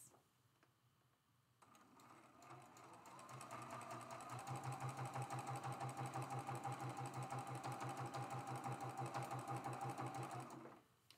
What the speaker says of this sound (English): I'm going to sew right on this seam with a quarter inch seam allowance.